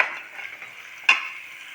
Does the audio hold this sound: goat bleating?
no